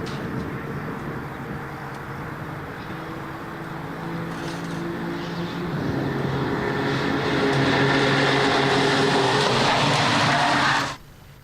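Renault Twingo Cup race cars at BalatonPark circuit in a continuous, loud multi-car engine drone with revving that swells toward the end before cutting off abruptly.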